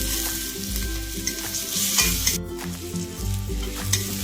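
Spices with chopped tomato and slit green chilies sauté and sizzle in a pan for an eggplant dish, with steady stirring scrapes over a continuous fry, alongside a tonal musical backing.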